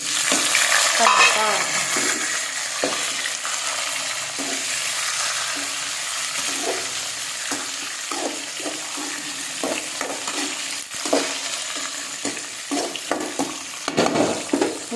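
Coriander seeds and green chillies roast in a pan with a constant dry sizzle and repeated scraping stirs of a spoon, close and fairly loud, with no talk.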